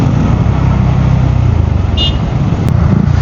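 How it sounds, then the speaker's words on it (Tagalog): Heavy, congested road traffic near SM Santo Tomas, a steady loud rumble of car and motorcycle engines with a brief horn toot partway through, continuous and close. "Sobrang traffic na dito."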